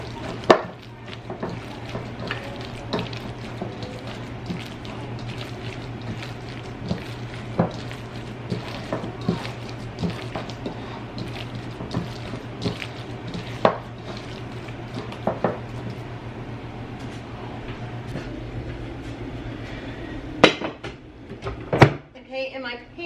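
Thawed blueberries are stirred into batter in a bowl, with repeated soft taps and scrapes of a utensil against the bowl and a faint background hum, ending in a few louder clunks.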